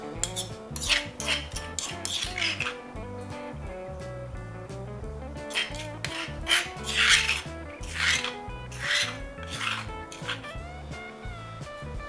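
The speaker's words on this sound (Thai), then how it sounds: "โขลกให้ละเอียดค่ะ" Garlic and other ingredients pounded finely in a mortar with a pestle, a steady run of repeated scraping, grinding strikes, close and clear, with a loose rhythm and no talking.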